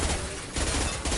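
Mass Effect 2 gunfire with an impact shot: a loud, dense, continuous fusillade of rapid shots rattles through the whole moment without pause.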